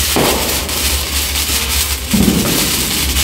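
Firecrackers go off during Diwali and Kali Puja celebrations in Bangalore, bursting in front of a gate as a dense, noisy crackle with a couple of louder pops in the mix.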